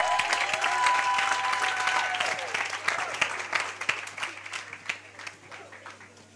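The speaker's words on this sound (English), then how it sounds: "Let's give them a big round of applause." A workshop audience gives a big round of applause, full and sustained at first, then thinning into separate claps as it fades, with a few voices mixed in.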